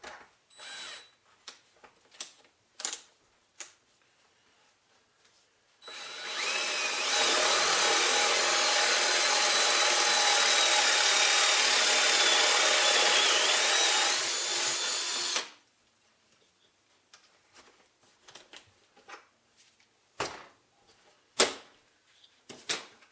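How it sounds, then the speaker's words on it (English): A power drill whines steadily for about ten seconds as it bores through wood for a shaker cabinet door, framed by scattered clicks and knocks of handling before and after. "hook up our drill to this, and then we just drill through"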